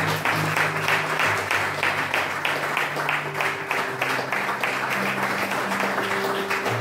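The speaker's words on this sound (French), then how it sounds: "acclamons le Seigneur" A church congregation claps and applauds steadily during a service, dense continuous clapping with sustained musical tones beneath it, no spoken words.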